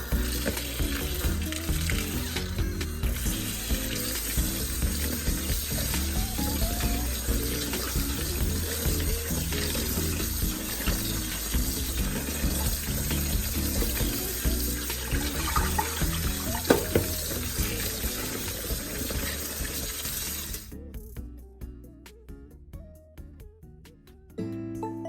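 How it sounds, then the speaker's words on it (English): Fresh garden jalapeños rinsed under a running kitchen tap, a steady broadband rush of water splashing in a sink for about twenty seconds before it cuts off and quiet handling noises follow. "So we're gonna go ahead and wash these up really quickly and make sure we wash them really good"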